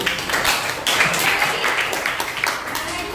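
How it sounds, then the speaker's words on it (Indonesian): A class claps together in a short burst of applause for a student, steady and fairly close, lasting a few seconds. "Kita beri tepuk tangan dulu Yusuf."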